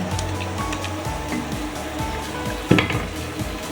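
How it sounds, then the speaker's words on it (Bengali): Sugar syrup with raw mango pieces boiling in a pot for rasgulla, a continuous bubbling sizzle with a brief sharp clink of a utensil near the end. "চিনির শিরা খুব সুন্দর ফুটে গেছে"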